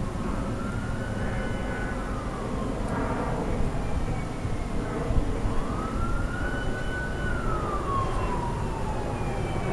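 Sirens pass outside, rising and falling wails drifting by at a distance over a steady broadband background rumble, with a long sweeping tone near the end, no talking.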